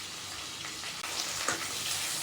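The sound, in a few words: onion, ginger, tomato and coriander lightly frying for masala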